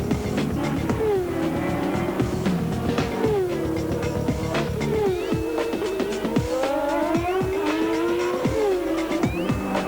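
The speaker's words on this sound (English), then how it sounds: "Let's follow the simulated Grand Prix car around a lap of Albert Park" A simulated Formula 1 Grand Prix car, 1996 season, laps Albert Park: a loud, continuous high-revving engine note rising and falling through repeated gear changes, with no voices over it.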